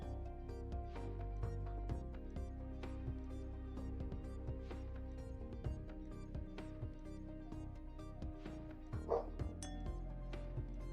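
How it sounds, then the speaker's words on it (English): Several dogs bark and yap outdoors in a constant burst of sharp, overlapping yips and barks that keeps going the whole time. The barking sounds somewhat distant and muffled, with a few louder yelps near the end. "Somebody dared to walk down the street. How very dare they? And yeah, they just start yapping."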